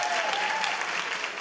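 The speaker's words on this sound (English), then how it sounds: "let's applaud mums" A comedy stand-up audience breaks into steady, dense applause, loud and continuous throughout with no pauses.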